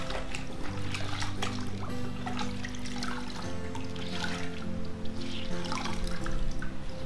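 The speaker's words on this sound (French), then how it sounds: "On va aussi rincer ça ici comme ça." Clothes, including underwear, are rinsed by hand in a basin of water. Close splashing, dripping and trickling run continuously over a steady low background hum.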